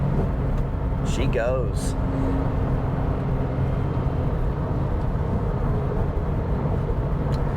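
Porsche 996 with a 4.1L Hartech engine and ported heads on a test run, a steady close engine drone under road noise, with a brief spoken remark near the start.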